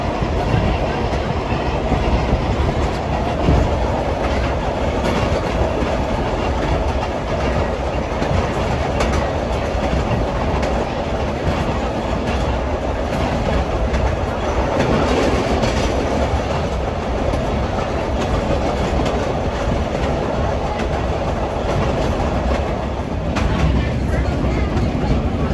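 Electric City Trolley rolls steadily along its rail track through a passing siding, a continuous loud rumble with wheel clatter throughout, while someone talks over it.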